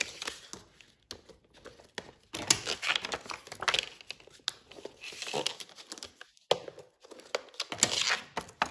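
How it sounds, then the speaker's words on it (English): Acetate is creased along its score lines with a bone folder, giving close, irregular crinkling and scraping plastic sounds in uneven bursts with brief pauses. "you're gonna want to take your bone folder, crease it on all four of your score lines"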